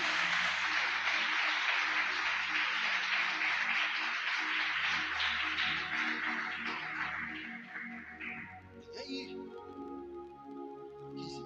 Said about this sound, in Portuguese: Quem pode aplaudir Ele bem forte nessa noite?